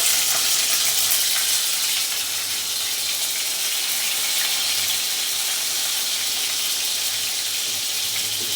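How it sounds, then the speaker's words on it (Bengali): Fish fry in hot oil on an induction cooker with a steady, even hiss of bubbling oil, close and constant for the whole stretch. "এখন আমি একে একে এই মাছগুলো ছেড়ে দিচ্ছি"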